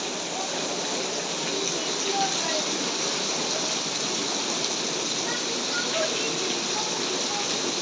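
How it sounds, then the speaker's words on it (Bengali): Heavy rain pours down outdoors in a dense, even hiss with no letup, a constant wash of drops close by and nobody speaking. "ঝুম বৃষ্টি হতেছে।"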